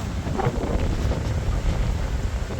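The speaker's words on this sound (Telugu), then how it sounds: "ఓ గాలి గాలి గాలి" Steady wind buffeting the microphone outdoors in the Maldives, a continuous low rumble and rush with gusty swells throughout, no voices.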